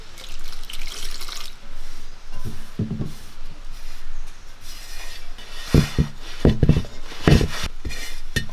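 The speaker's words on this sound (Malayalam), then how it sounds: "വെള്ളം ഒഴിക്കാം" Water is poured into a bowl of flour mixed with salt and turmeric while making dough for Kerala-style kaaja (madakku) snacks, a soft running pour followed by a few sharp clinks and knocks of a vessel close by.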